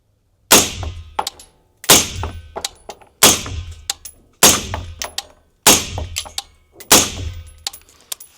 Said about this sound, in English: So go ahead and shoot this.